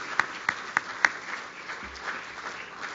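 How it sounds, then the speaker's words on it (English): Sparse, light clapping for Dean Hughes at OU's 3MT graduate competition: a handful of distinct claps early on, then a soft, fading patter in the room. "give an amazing Sooner round of applause to Dean Hughes"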